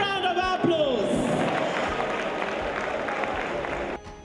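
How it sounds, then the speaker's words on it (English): Audience applause fills a hall at a women's conference gala in Lagos, a steady wash of clapping under brief cheers and voices, holding for about four seconds before cutting off. "A better round of applause."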